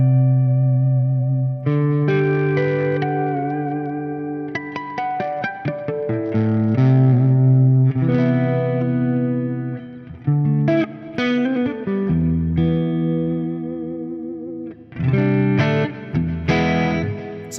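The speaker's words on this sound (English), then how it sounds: "the reverb is super nice." Electric guitar played at night through an amp with lush reverb and effects, melodic sustained notes and chords ringing out and trailing into washy tails, steady and fairly loud with no voices.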